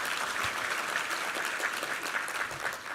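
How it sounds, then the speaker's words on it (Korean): A church congregation at a Sunday worship service claps together in thanks, an even, continuous round of applause filling the sanctuary for a few seconds with no voices over it. "우리 하나님께 감사와 영광의 박수 올려드리겠습니다."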